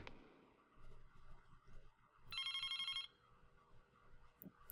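A telephone rings in the PS1 horror game Clock Tower, a single bright electronic trill burst of about three-quarters of a second over a low ambient game backdrop.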